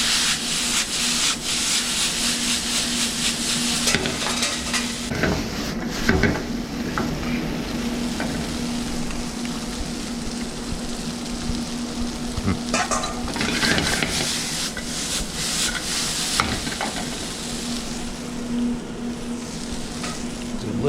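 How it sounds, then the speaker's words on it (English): Homemade spaetzle fries in a pan, a continuous loud sizzle overlaid with repeated scraping and stirring strokes of a utensil against the pan, plus a low steady hum underneath. "Spaetzle into the pan."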